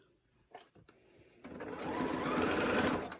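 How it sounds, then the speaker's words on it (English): Close sewing machine starting a small locking stitch on a phone pocket, a few short clicks building into a steady running whir. "here we are at the machine. Just do a little locking stitch."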